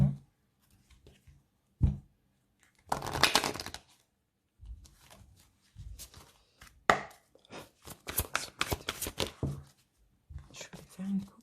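Tarot cards are shuffled and cut close to the mic in crisp, irregular riffling bursts and taps, with a voice speaking softly in between.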